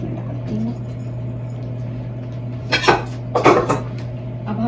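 Hot, soft boiled chickpeas tipped into a cooking pot, giving two brief clattering, sloshing bursts of metal and food against a steady background hum.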